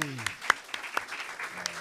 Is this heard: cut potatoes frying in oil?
no